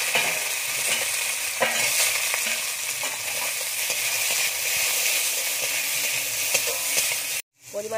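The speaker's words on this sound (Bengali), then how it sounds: "প্রথমে আমি বেগুনটা ভেজে নেবো" Eggplant fries in hot oil in a pan with a dense, continuous sizzle and occasional stirring clinks, close and loud, cutting off sharply near the end.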